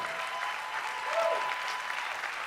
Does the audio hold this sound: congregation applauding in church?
yes